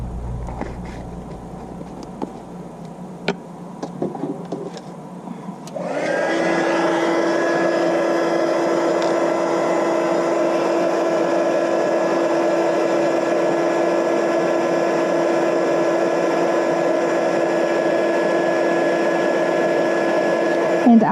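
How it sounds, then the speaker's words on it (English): A heat gun switches on for heat embossing a Polished Stone snowflake card and holds a steady, loud whirring blower drone with a faint tonal hum; the start is quieter, with light handling sounds. "And we're ready to heat emboss."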